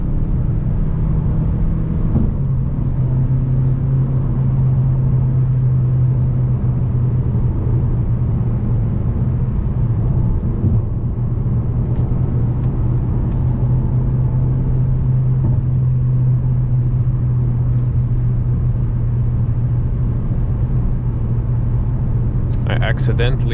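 A 2019 Mazda 3 hatchback cruising in third gear at night, heard from inside as a steady low engine drone with road rumble throughout; someone speaks briefly.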